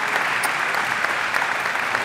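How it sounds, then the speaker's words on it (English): Crowd applause at the 2005 US Open racquetball semifinal between Carson and Waselenchuk, a dense steady wash of clapping from spectators throughout, filling the space evenly at moderate loudness. "Rocky now getting applause from the crowd because he just gave up a call."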